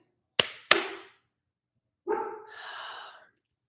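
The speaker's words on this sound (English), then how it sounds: "Life with a little yappy dog who thinks that this house is hers" A small yappy dog gives two sharp, close barks in quick succession, then after a pause a longer whining, yelping vocalization trails off; no talking.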